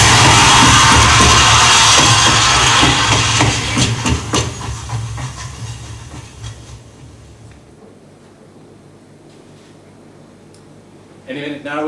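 A steam train at a platform releases a loud, broad hiss of escaping steam that slowly fades away over several seconds, leaving a low rumble, then a brief clatter at the end.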